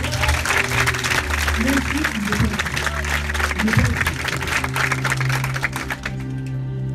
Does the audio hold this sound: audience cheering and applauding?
yes